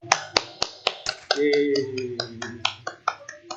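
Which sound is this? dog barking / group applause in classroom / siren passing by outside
group applause in classroom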